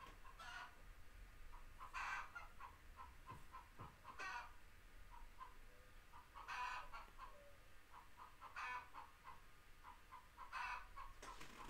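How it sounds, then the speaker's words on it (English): Chickens clucking and squawking in repeated bursts, one hen cackling as she lays an egg, fairly faint and distant with no talk over them. "Sounds like one of the chickens is laying an egg"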